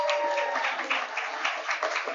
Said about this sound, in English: Let's have a round of applause for Money Up.